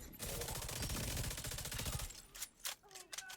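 Gunfire from The Division 2: a rapid automatic burst of about two seconds is followed by a few scattered sharp shots trailing off.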